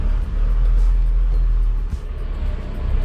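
A Tata Xenon Yodha 4x4 pickup in four-wheel low, its engine held at a fixed RPM as it moves: a continuous, fairly loud, even drone with no voices.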